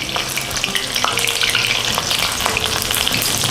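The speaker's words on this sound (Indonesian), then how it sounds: "Ini gorengnya sampai dia agak crispy gitu ya sahabatku." An egg sizzles and crackles steadily in oil in a new frying pan, frying until crispy as a large puffed omelette; the sizzle is close, loud and continuous with occasional stirring clicks, no talking.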